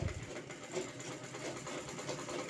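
A sewing machine stitches along a marked line on bag fabric, giving a steady mechanical whirr with a fine rapid rhythm that runs continuously at moderate, close volume.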